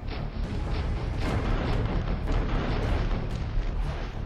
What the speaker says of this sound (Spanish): rompió el fuego contra las fragatas españolas